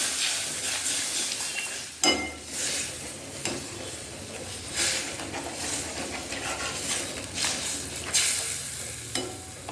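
Water hits hot oil in a pan of fried potato and fish curry, setting off a loud hiss and sizzle with sharp scraping stirs and clinks against the pan.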